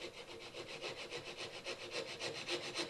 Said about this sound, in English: Now I'm going to use a coping saw